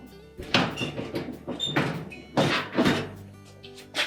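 A kitchen range's oven door is raised to its stops and lifted off its hinges, giving several dull thunks and clunks, close and moderately loud, spread irregularly across the moment.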